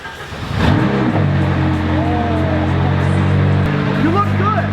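A McLaren 570 fires up nearby, the engine catching with a sharp burst and then settling into a loud, steady idle with brief rev rises, while people talk excitedly over it.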